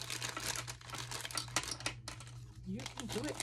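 Packing paper crumpled and crinkled while a small Re-ment miniature set is unboxed, close continuous rustling and crackling with short pauses, a voice briefly over it.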